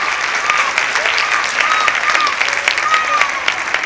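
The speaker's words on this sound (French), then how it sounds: "je pense qu'on devrait les applaudir encore plus fort" An audience at a 1990 Christmas stage show applauds loudly and steadily, dense clapping throughout with a few faint whistles cutting through.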